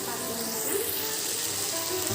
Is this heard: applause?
no